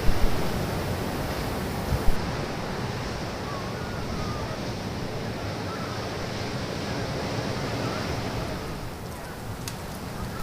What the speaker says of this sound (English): More waves, calmer.